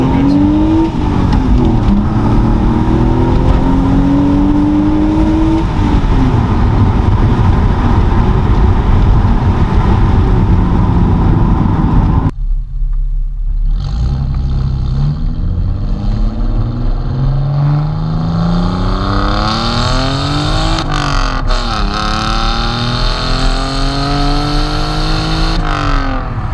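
A modified older BMW E46 engine revs hard and loud up close, steady high-rpm roaring, then a brief cut before more rising and falling revs.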